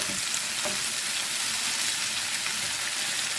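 Shrimp and coarsely chopped garlic frying in a pan, a steady close sizzle and crackle with no talking.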